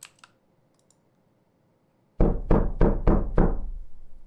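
Five firm knocks on a door in quick succession, loud and close, following a stretch of near silence with a few faint clicks at the start.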